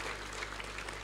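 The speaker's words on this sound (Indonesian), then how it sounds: "Boleh tepuk tangan" A school assembly claps for its futsal team, a steady wash of many hands applauding at moderate distance with no single claps standing out.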